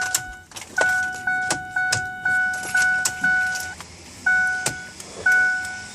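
A 2004–2008 Ford F150's turn signal relay clicking normally inside the cab, a steady even tick-tock of about two clicks per second, close and clear with a brief pause partway through, no talking.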